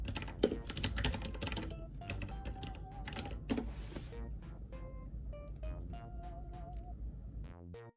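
Quiet, rapid typing on a computer keyboard at a desk, with bursts of clustered keystrokes and brief pauses over about eight seconds and no talking. Faint electronic tones sit underneath.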